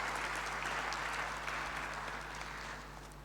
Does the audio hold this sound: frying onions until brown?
no